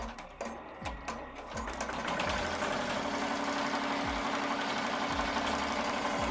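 An embroidery machine stitches a design in a loud, continuous mechanical rattle with a regular pulsing beat that runs throughout, with no voices.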